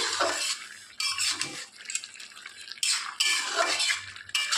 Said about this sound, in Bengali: পেঁপেগুলো তারপরে কচুগুলো একটু ঘেটে ঘেটে দিতে হবে